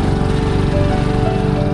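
A motorbike engine labours at full load in first gear on a steep climb up to the Shri Bhojling hill temple, a loud, steady throbbing drone with dense low pulses, close and unbroken for the whole stretch with no talk.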